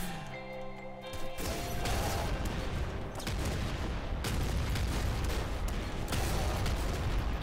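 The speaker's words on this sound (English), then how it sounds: "We've got like a very slow firing Gatling bazooka." A slow-firing Gatling bazooka in the top-down shooter Nuclear Throne, a dense continuous barrage of heavy explosive blasts that starts after a brief musical lead-in and stays loud throughout.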